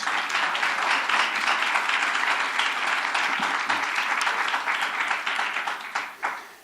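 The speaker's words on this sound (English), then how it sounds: "So give yourselves a round of applause." A crowd at a political speech applauding, sustained dense clapping at an even level that trails off near the end.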